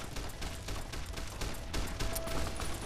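Rapid, loud gunfire from the player's weapons in Fallout: New Vegas pounds in a dense, continuous fusillade of overlapping shots with mechanical clatter.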